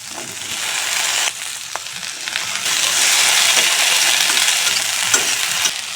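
Cut okra fries in fish oil with garlic and ginger, a loud close sizzle that swells as the vegetables hit the pan, with stirring scrapes and clinks of a utensil.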